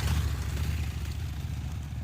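Royal Enfield Himalayan motorcycle climbing off-road in second gear, a low, chugging engine rumble at moderate distance, steady and fairly faint with light clatter.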